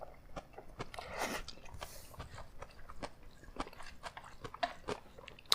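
Cold, spicy Korean noodles are chewed close up, with soft repeated bites and faint crunchy, wet mouth sounds in an irregular rhythm, quiet throughout and without talking.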